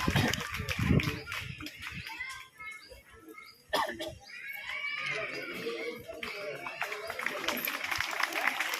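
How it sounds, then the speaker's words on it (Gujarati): Audience members clap at an award ceremony honouring a UPSC graduate in a Gujarat village, with scattered, uneven hand claps mixed with crowd murmur and voices talking throughout. "આ બેનો તાળી પાડે"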